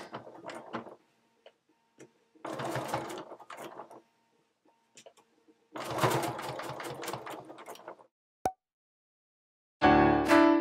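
A sewing machine stitches fabric for a sun hat at a 3.0 mm stitch length, running in several loud rapid bursts separated by pauses, ending with a brief harsh final burst.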